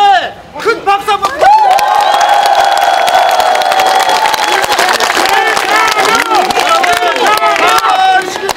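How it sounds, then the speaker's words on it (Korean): Large crowd at an outdoor political campaign rally in Jeonbuk breaks into sustained loud applause and cheering, a dense wash of clapping and shouts lasting several seconds. "우리 전라북도 열석을 지켜주신 이재명 대표님께 큰 박수 한번"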